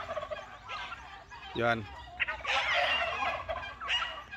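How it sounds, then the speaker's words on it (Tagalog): Turkeys on a ranch gobble in a quick rattling burst, with more gobbles and bird calls scattered across a busy outdoor background; someone speaks briefly. "Ayan mga lagaing kong pabo."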